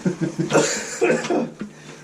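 A series of raspy coughs nearby, rapid and uneven, mixed with a wheezy chuckle-like exhalation.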